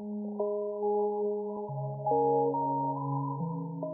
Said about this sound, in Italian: E dà questo bellissimo effetto sott'acqua